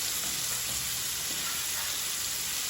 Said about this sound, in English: Like we're frying our chicken, so we have to be generous with the oil.